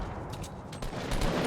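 Rapid bursts of Fortnite gunfire crackle through a battle royale fight, several close, sharp shots clustered together with a heavier volley near the end.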